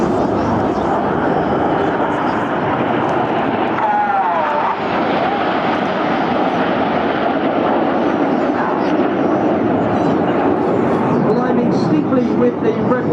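Red Arrows display jet Red 9 roaring overhead at a seaside air show, a broad continuous jet rumble with a brief whining pitch sweep, loud and sustained throughout.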